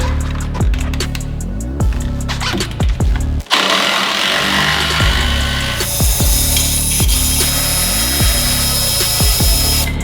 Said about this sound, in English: Now I'm going to come underneath here with the 18mm socket, break it loose first.